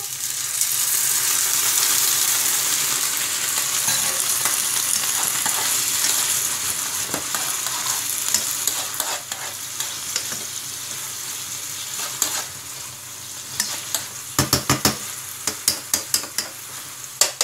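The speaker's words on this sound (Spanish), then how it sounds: "Echamos el vino" White wine poured into a pan of mussels for a seafood sauce sets off a loud, steady sizzle that gradually settles into a lighter crackle with scattered sharp pops and clinks near the end.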